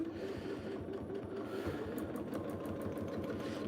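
A Janome sewing machine runs steadily while stitching a quilt, giving a continuous close mechanical whir with a soft repeating hum, and sharper faint ticks appear in the second half.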